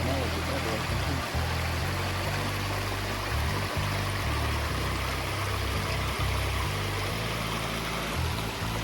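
A forest creek flows steadily nearby in a hiking area, a constant broadband rushing wash with some low thumps mixed in.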